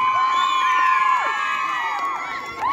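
A crowd at a kho-kho championship final in Shimla shouts and cheers loudly, with high excited voices whooping under an announcer's speech in a brief, energetic burst.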